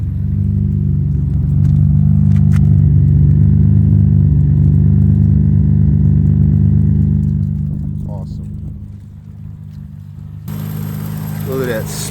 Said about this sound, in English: That's a nice solid idle.